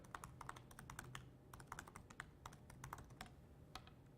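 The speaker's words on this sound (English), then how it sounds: "I'm sure that typing was dreadfully loud through my microphone" Rapid, close-up clatter of typing on a computer keyboard, uneven bursts of key presses with brief pauses, no one speaking.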